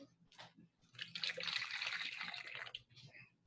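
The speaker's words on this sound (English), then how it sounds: "pour the water into that container" Water poured into a container on a table during a classroom volcano model demonstration, a bright splashing gush building over a few seconds, close by, with faint voices in the background.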